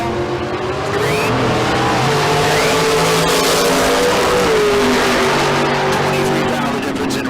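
A Mustang and a Camaro launch side by side at a Tucson drag strip bracket race, engines roaring and rising in pitch as they pull away, loud and sustained throughout.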